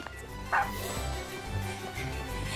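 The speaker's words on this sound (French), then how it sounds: "Il est là, cet adorable petit chien." A small cartoon dog from a Polly Pocket animation gives one short, yappy bark near the start, then quieter whimpers over background music.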